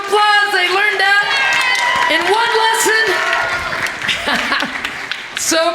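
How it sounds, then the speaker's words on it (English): At a grade 4 theatre festival sharing, an audience claps and cheers with whoops and some laughter, all mixed under loud singing and a voice that dominate the foreground. "let's give them one more round of applause"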